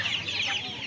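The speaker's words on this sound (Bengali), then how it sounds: "দেখুন চীনা মুরগি রয়েছে" Chinese hens cluck nearby at a crowded hen market in Uluberia, a short, busy burst of clucking.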